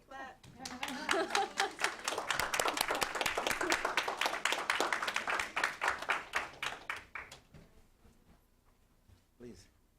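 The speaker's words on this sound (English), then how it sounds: "Can we clap?" A small group at a state board of education meeting claps, close and distinct, building quickly, holding for several seconds, then thinning to scattered claps and fading out.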